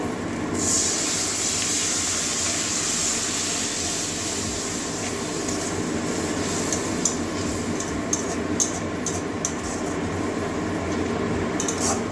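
Water poured into masala frying in a pan for a Bengali katla fish curry with cauliflower and potato: a steady broad hiss and bubbling sizzle with a few clinks of utensils, no voices.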